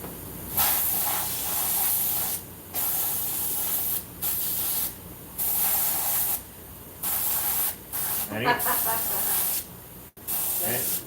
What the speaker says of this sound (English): Anything I want to emphasize, I airbrush.